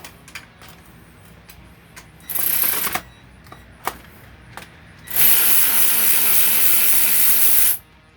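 A socket ratchet clicks in short bursts while working on a Toyota Prius 1.8L 2ZR-FXE hybrid engine, with a brief run of ratcheting followed by a longer, louder steady stretch of rapid clicking, close up with small knocks between.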